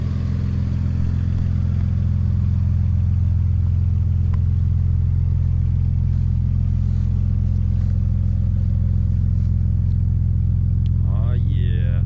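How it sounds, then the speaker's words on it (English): A turbocharged Audi S4 engine idles loudly after a rebuild with a deep, steady rumble, a faint whistle rising briefly near the end. "got the car running."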